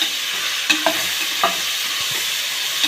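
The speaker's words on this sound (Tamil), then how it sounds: "தக்காளி சேர்த்து நல்லா வதக்கி விட்டுடலாம்" Tomatoes sautéing in a pan, a continuous frying hiss with occasional sharp clicks of a spoon stirring them, close and steady throughout with no one talking.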